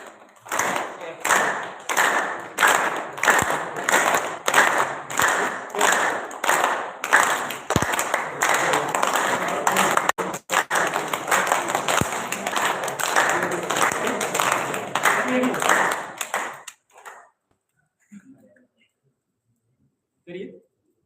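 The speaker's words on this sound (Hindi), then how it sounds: "ताली बजाना अपने आप में एक बहुत अच्छा योग है" A group claps hands in a steady rhythmic beat for about seventeen seconds, close and loud, during a yoga-style clapping exercise, then stops into near silence with a few faint taps.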